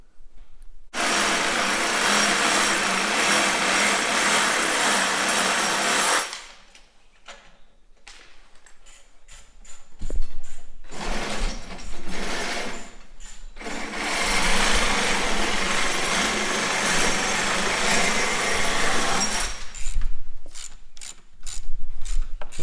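A power cutting tool slices off excess metal studs on a custom metal floating stair railing, loud sustained grinding bursts separated by a short gap, followed by brief clicks and a second long cut before the tool stops.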